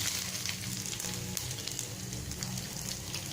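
Chili, garlic and curry leaves fry in hot oil in a pan, giving a steady, dense sizzle that holds close and even throughout.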